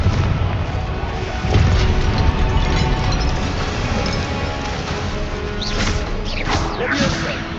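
Spell blasts in the Hogwarts Legacy video game, with booming impacts and crashing hits layered over a dense, loud game soundscape, including a few sweeping whooshes near the end.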